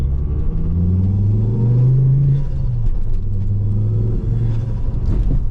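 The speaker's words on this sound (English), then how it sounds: "2008 Ford Focus XR5 Turbo. Second gear. Let's go." A 2008 Ford Focus XR5 Turbo pulls hard in second gear, its engine note rising in a steady, loud drone with a brief dip before climbing again, heard up close from inside the car.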